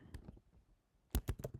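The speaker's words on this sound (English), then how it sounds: "And then you just want to type in a title." Quiet computer keyboard typing: a few soft keystrokes at first, a pause, then a quick cluster of crisper clicks near the end, close and alone.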